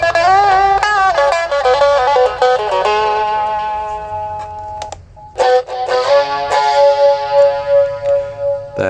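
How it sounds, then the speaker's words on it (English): Yamaha SH-01 effects unit running drive plus chorus on a bright synth-like melody: distorted, shimmering sustained notes that pause briefly near the middle, then resume with choppier phrases. "That is drive plus chorus."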